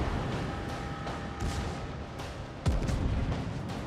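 Explosions from dive bomber attacks in a naval warfare video game, a rumbling barrage of booms with a heavier blast near the end, continuous and loud.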